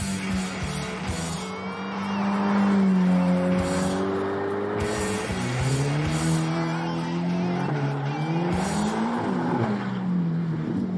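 A Ferrari F8 Tributo driven fast on a race circuit, its engine note rising and falling through gear changes with a continuous loud roar and occasional tire noise, no talking.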